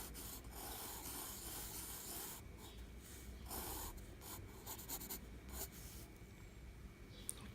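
Pencil scratching and rubbing on paper while drawing the top of a character's hair, soft continuous strokes with short bursts, close and quiet, no talk.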